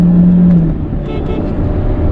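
A 2020 Honda Civic with a 1.8-litre naturally aspirated petrol engine and CVT gearbox accelerates, a steady, loud engine drone with a low hum that fades slightly after the first moment, no voices over it.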